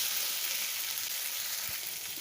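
Spice paste with cumin sizzling in a pan for an egg poach curry, a steady, close hiss of frying with no talking.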